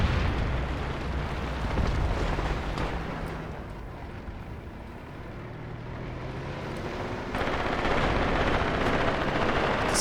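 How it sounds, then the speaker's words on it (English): Hand grenade explosions and gunfire in Graviteam Tactics Mius Front blend into a dense, continuous rumble of battle that stays steady for the whole stretch and grows louder toward the end, with no talk over it. "Lots of hand grenades being thrown."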